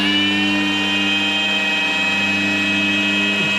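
A power buffer compounding paint on the rear quarter panel of a 1969 VW Beetle convertible gives a loud, steady, close whine that dips briefly in pitch just before it ends.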